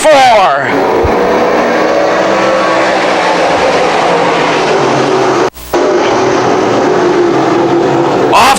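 Modified small block race cars roar around a speedway oval during a 25-lap feature, the engine drone loud and continuous with a brief dropout and a rising pass near the end, while an announcer talks over the noise.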